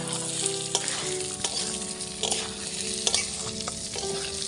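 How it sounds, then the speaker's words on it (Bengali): Rice and lentils frying together in a pan, a steady dense sizzle broken by periodic scraping stirs, close and fairly loud with no talk. "এটাকে আমি এখন ভালো করে ভেজে নেব একটু।"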